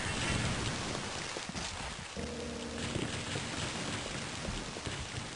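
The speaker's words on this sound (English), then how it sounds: "Feel the rain coming." Steady rain hisses throughout in the video game Heretic 2, a dense, continuous wash of falling water with a brief low tonal hum partway through.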